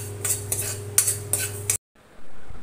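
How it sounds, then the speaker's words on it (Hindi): Whole spices such as fenugreek seeds, nigella and mustard seeds being stirred with a metal spoon in a heavy-bottomed kadai over a medium flame, with several sharp clinks and scrapes against the pan over a low steady hum, then a brief pause. "मसाले को लगातार चलाते हुए एक मिनट के लिए मीडियम फ्लेम पे भूना है।"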